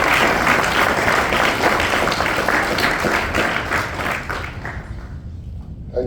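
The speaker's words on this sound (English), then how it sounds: "let's give a big last round of applause" An audience at a science fair speech gives a loud, dense round of applause that holds steady before thinning out and fading toward the end.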